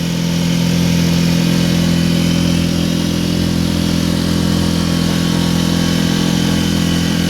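A small 4 to 6 hp outboard boat motor runs loud and close, holding a steady, even drone for the whole stretch with no talking.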